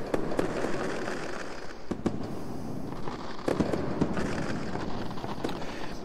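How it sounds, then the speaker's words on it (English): Fireworks go off in an Unreal Engine 4 game project at night, a continuous crackling rumble with repeated sharp pops and bangs scattered throughout, fairly loud and without speech. "Started screwing around with the fireworks."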